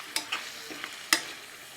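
Mutton stirred in a pan with ginger paste: a few sharp, separate scrapes and clacks of a utensil over a faint, quiet background, no voices.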